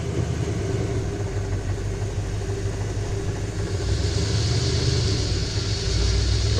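A 1978 Ford E150 van's engine runs steadily up close, a rough low rumbling idle that rises slightly in intensity partway through and holds there.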